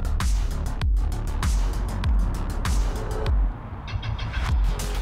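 A 2021 Kawasaki Ninja ZX6R 600cc supersport motorcycle engine runs loud and close, a steady rough rumble with repeated low pulses through most of the stretch, easing slightly near the end.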